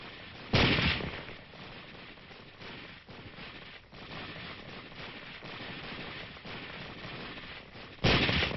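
Rifle shots ring out during French Battalion target practice in Korea, two sharp loud cracks separated by several seconds, with a low rumbling background between them.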